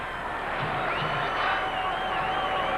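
A baseball crowd at Fenway Park during a 1998 Red Sox game against Cleveland makes a steady, distant roar of cheering and murmur that holds without break.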